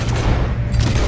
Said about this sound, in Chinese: 瞄准头部以后立马开枪